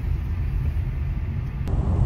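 Steady rumble of road traffic on a busy street in Sweden, a continuous low engine drone of passing cars with a brief swell near the end, no talking.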